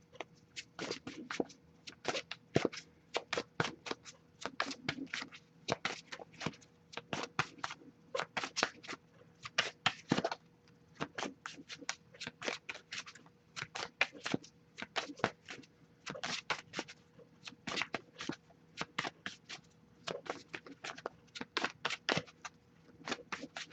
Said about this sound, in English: if I shuffle for a while and nothing's coming up, I'll just take that as a sign to keep it moving